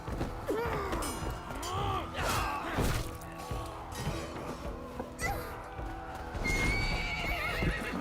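A horse in a Viking-era video game neighs and whinnies several times over clip-clopping hooves, with thuds and crashes of combat mixed in, fairly close and lively throughout.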